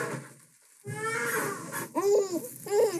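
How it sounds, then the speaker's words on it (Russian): A small child with a stomach ache whimpers and fusses in short, rising cries after a brief quiet moment, close by and fairly soft. "Там малая плачет."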